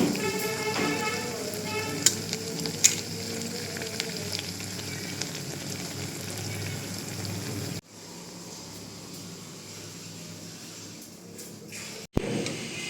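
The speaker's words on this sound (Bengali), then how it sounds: "এখানে এখন বেগুনি ভাজা হচ্ছে" Eggplant fritters (beguni) fry in oil, producing a loud, continuous sizzle with a few sharp clinks early on; the sizzle drops to a quieter, even hiss partway through after a sudden cut.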